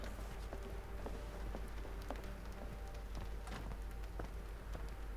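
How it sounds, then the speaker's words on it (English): Rain falling in the video game Sherlock Holmes: The Awakened, a faint continuous patter of drops on surfaces with scattered sharper taps and a low background rumble. "It's raining today."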